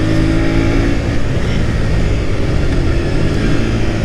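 A motorbike engine drones loud and steady while riding uphill on an empty road, a dense continuous roar with constant low rumble and no pauses.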